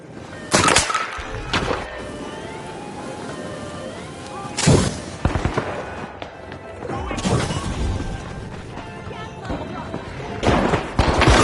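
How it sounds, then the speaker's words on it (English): Explosions and grenade blasts from The Finals, a game-show style shooter, hit as several loud, sharp crashes spaced a few seconds apart, with debris rattling and steady game noise and an announcer talking between them. "The match is starting to heat up as the Overdogs have started our first cash out. Blowing things up. Throwing move grenade."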